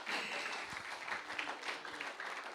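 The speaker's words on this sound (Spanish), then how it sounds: "¿Quieren darle un aplauso al Señor, pastores?" Church congregation applauds during a service, a soft, distant patter of many hands with a few louder claps, sustained over two and a half seconds.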